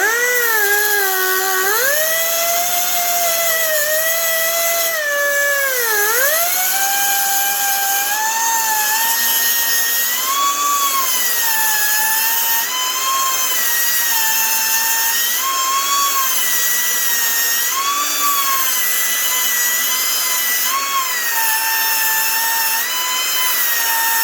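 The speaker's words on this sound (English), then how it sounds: "We'll switch directions on this grinder." Directional die grinder porting an Echo 2511t two-stroke engine, a loud continuous high-pitched whine that rises and dips in pitch as the bit loads and unloads against the metal, running steadily up close with no talk.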